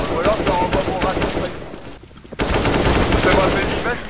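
Rapid automatic gunfire from a Counter-Strike: Global Offensive match, loud and continuous with dense rattling bursts, a brief pause, then more sustained firing.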